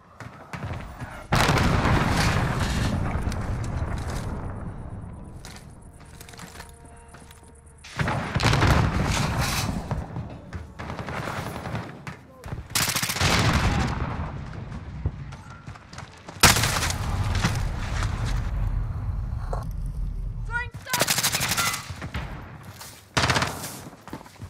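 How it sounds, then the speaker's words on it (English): Cruise missile strikes in Call of Duty: Modern Warfare multiplayer set off several heavy, rumbling explosions in separate bursts, mixed with gunfire and booming battle noise, with short quieter gaps between the blasts. "Allied cruise missile away."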